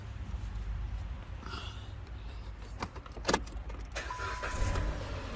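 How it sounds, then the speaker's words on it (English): A car fitted with a new battery is cranked and fires up, with faint key and interior rattles first, then a broadband engine surge near the end. "because this is a new battery, this car should fire right up"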